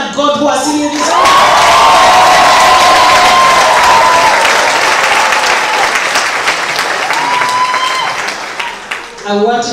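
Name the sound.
graduands clapping and cheering at ceremony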